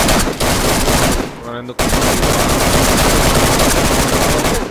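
Sustained automatic gunfire from a video game shooter, loud and dense with rapid repeated bursts, briefly dropping out midway before resuming, with a short spoken remark over it.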